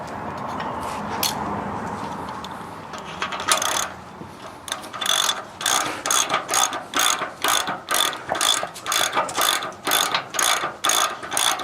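A socket ratchet wrench clicks rapidly in repeated bursts as a bolt is turned on a Land Rover 300 TDI 4x4 chassis, preceded by softer mechanical handling noise.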